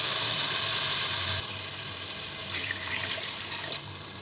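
Water, two and a half cups, poured into a pan of fried rice and spices for egg biryani, a loud rushing pour that drops to a quieter bubbling hiss partway through, with no voices.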